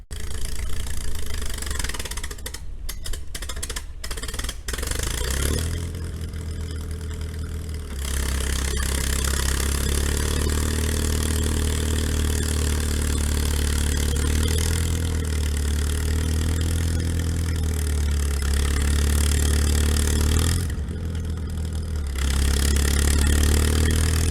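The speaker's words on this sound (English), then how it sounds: "That load is a little heavy. You can hear Lavern chugging away" Engine of a vehicle towing a heavy load on a long trailer, chugging steadily and loud up close, with a deep rumble that rises and falls through the run, briefly easing off between pulls; nobody speaks.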